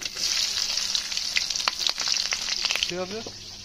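Green chilies dropped into hot oil already tempered with five-spice seeds in a Bengali village kitchen, a loud, bright, continuous sizzle with crackling bursts, and a brief voice near the end.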